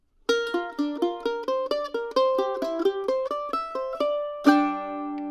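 A mandolin plays the second ending of a bluegrass tune, a quick run of crisp plucked notes in steady rhythm ending on a ringing strum, close and alone.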